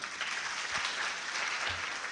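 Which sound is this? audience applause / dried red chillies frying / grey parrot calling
audience applause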